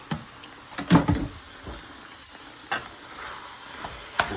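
Ground turkey and onion sizzling in a frying pan while a utensil stirs and scrapes through the meat, with a few louder clattering stirs standing out over a steady fry.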